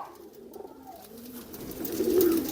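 Pigeons of the Punnu line, kept by Punjabi pigeon fanciers, coo softly and repeatedly at close range, the low throaty calls growing a little louder toward the end with no talking.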